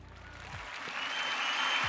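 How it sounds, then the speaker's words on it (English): Brief, faint applause, building slightly at the welcome of a guest on a live Twitch geek talk show. "The applause didn't last for too long."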